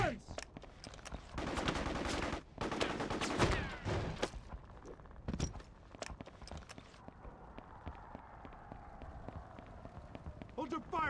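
Heavy automatic gunfire in the Mercenaries 2 video game on PS2, dense sustained bursts of machine-gun fire broken by brief pauses, then scattered lighter shots, with a voice speaking over it.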